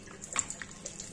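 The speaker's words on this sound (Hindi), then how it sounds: "दिन में 1-2 बार बीच में भिगो देती हूँ इस तरह से पानी में।" Cloth soaked in water by hand for a rooftop chicken and pigeon setup, giving faint close splashing and trickling with a brief louder slosh, no voices.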